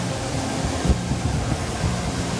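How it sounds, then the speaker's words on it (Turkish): The Toparlar waterfall near Köyceğiz sends up a loud, steady broadband rush of falling water that fills the whole scene without pause. "Arkadaşlar şelale bu."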